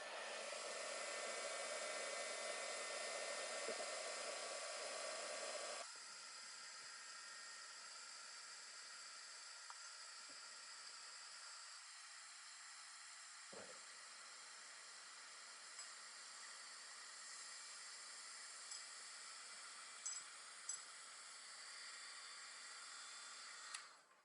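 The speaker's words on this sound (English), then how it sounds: "Heat gun." Heat gun blowing hot air over jewelry pieces, a steady airy hiss that runs loud at first, then drops to a softer constant blow for the rest, with no talk.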